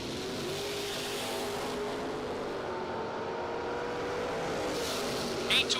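A first-generation 1968 Chevrolet Camaro races down a drag strip, its engine a sustained roar that carries at a distance with a slight rise and fall, while a voice comes through faintly beneath it.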